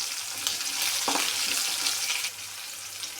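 Green chillies sizzle in hot oil in a pan, with cumin and coriander seeds dropped in, giving a steady close hiss of frying with a brief stir partway through.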